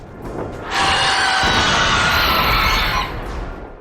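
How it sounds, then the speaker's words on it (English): A monstrous Pestilence enemy in The Darkness lets out a loud, sustained high-pitched shriek lasting about two seconds, with a faint whine continuing briefly afterward. "He shrieked at us again, but this time it didn't hurt."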